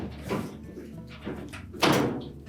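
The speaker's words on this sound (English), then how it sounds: "So we're just going to grasp that door, lift up on" A Whirlpool dryer door is lifted off its hooked hinges, giving a few muffled thunks and scraping knocks of metal and plastic, close by with no talking.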